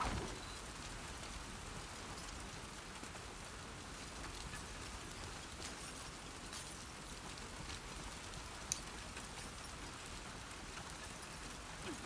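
Steady, dense rainfall over a rainy Seattle in The Last of Us Part 2, a continuous even hiss of drops on surfaces running the whole time, with one brief sharp tap partway through.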